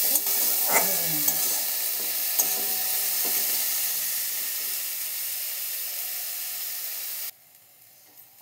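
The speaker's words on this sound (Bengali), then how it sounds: "করলাটাকে ভালো করে তেলে লাল লাল করে ভেজে নেব।" Bitter gourd frying in oil until reddish-brown, giving a steady, dense sizzle with faint stirring scrapes that stops abruptly near the end.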